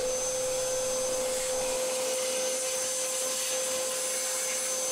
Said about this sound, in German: dann sauge ich das hier gerade mal schnell aus